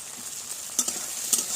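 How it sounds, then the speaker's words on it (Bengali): Small shrimp and chopped tomato frying together in a pan, a soft steady sizzle with a couple of short stirring scrapes. "একই সাথে ভাজা হয়ে যাবে চিংড়ি মাছটা"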